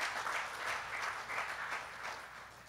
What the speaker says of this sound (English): Round of applause to Dorothy Goosby.